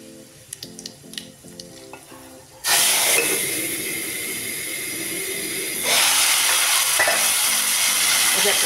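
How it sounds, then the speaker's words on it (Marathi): Hot oil tempering with cumin and garlic for a Maharashtrian ghol leaf curry, poured in with a sudden loud sizzling hiss after some light clinks, then swelling again into a sustained, close steamy sizzle. "आपण आता फोडणी देऊया."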